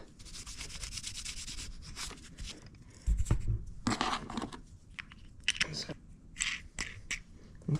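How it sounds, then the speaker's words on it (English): Furniture wax being rubbed by hand onto the bottom of a wooden crosscut sled, with soft scuffing strokes that come and go, broken by a few louder knocks and bumps. "I'm going to add a little bit of the furniture wax to the bottom and the back of it."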